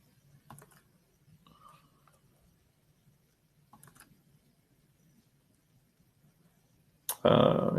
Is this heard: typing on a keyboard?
yes